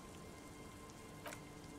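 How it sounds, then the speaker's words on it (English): Steady, faint rain falls at night in the video game Disco Elysium, a soft continuous hiss with a brief brighter patter near the end. "It's getting late, and it's raining."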